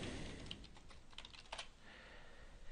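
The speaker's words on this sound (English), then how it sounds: "We can type in email addresses" Fingers tap out email addresses on a computer keyboard in a quick, uneven run of soft, close keystrokes with a few sharper clicks.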